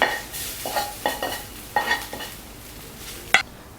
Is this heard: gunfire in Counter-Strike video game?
no